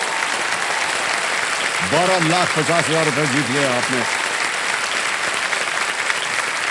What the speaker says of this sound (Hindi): एक बार फिर जोरदार तालियां बज जाए उनके लिए।